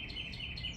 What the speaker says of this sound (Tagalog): Ito po yung nadidinig po ninyo yung huni ng ibon.